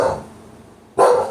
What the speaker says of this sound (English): Now they're all going to bark.